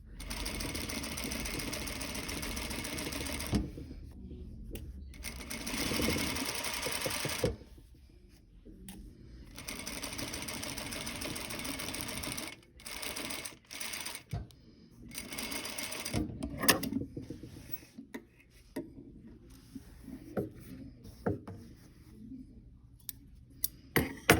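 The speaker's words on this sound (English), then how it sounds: "let it rub along the edge of the foot so I have a consistent top stitch width" A sewing machine top stitches a serged welt seam, its motor whirring in steady runs that stop and restart several times, with small clicks and handling noises in the gaps and a little talk.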